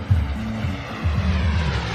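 An RC model jet engine that reaches about 199.8 mph roars steadily in the distance, a continuous loud rushing drone with a low throb.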